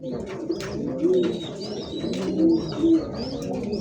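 Fancy pigeons at a pigeon sale, including pure Kalshi-neck birds, coo in several short rolling phrases close by, with faint chirps from other birds in the background.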